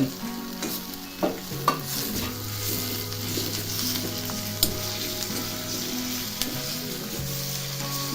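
Brinjal and onion sauté in a hot pan for vangyache bharit, a continuous close sizzle with repeated spoon scrapes and clinks against the pan, including a few sharper knocks early on.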